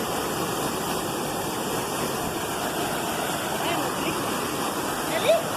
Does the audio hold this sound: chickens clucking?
no